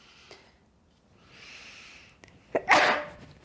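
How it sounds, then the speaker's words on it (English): A single sneeze near the end, preceded by soft breathing and a brief inhale, sharp and close in an otherwise quiet room during a power bar exercise class. "sneeze."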